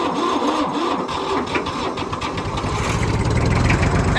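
The diesel engine of a Fordson Super Dexta tractor cranks slowly and catches, turning over with a laboring, uneven churn before settling into a rough, loud chugging idle close by.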